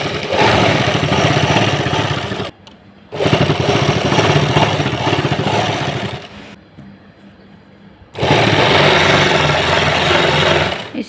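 A sewing machine stitching a salwar's main fabric to its lining runs in loud, continuous motor-driven stretches, stopping briefly twice between long runs, close up with no talking.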